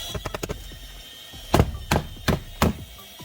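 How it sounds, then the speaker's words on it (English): Four quick light taps, then four heavier, evenly spaced knocks against a hard brick wall, close and fairly loud, with no talking. "we're going to just bang the wall just to hear the sound, the inside"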